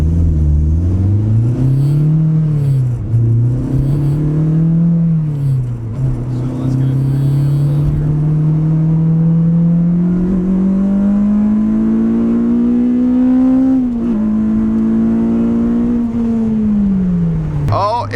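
A 10th-generation Honda Civic Si pulling through the gears from inside the cabin, a loud droning engine note that rises steadily, dips briefly at shifts and climbs again before easing off at the end.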